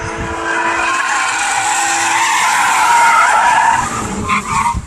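Loud, sustained tire squeal as a car with a naturally aspirated D-series engine and Toda header skids through a drift, the screech holding steady and wavering in pitch toward the end.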